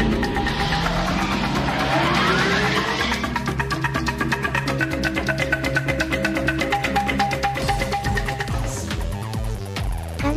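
Kaneda's custom motorcycle from Akira, a ceramic twin-rotor machine set at 12,000 rpm and 200 horsepower, whines through rising, sweeping revs. The tone then settles into a sustained, buzzing high-pitched hum, loud and alone, with no talk over it.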